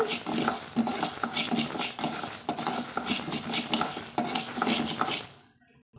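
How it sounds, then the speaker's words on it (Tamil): Urad dal dry-roasts in a hot kadai over medium heat, the grains rattling and scraping in rhythmic stirring strokes, close and bright, stopping abruptly at the end. "இப்போது நல்லா வானலி சூடான முன்னாடி ஒரு 2 நிமிஷம் நம்ம இது வறுத்துருக்குறோங்க."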